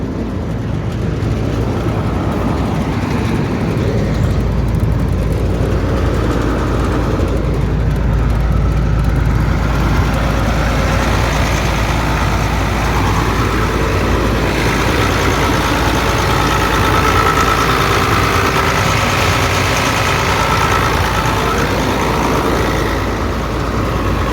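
The engine of a Palesse 812CX combine harvester idles loud and close in a deep, steady rumble that holds even for the whole stretch.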